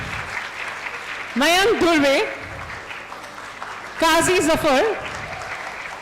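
Audience at a law school valedictory function applauding, a soft steady patter of many hands beneath a person on a microphone reading out names.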